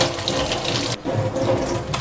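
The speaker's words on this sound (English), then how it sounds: "Run it through water," Tap water runs steadily into a sink while a Voltas Beko dishwasher filter is rinsed under it, a loud continuous splashing hiss that briefly dips around the midpoint before resuming.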